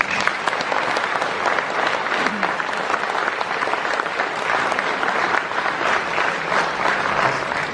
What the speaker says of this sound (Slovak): Veľká úcta a veľký potlesk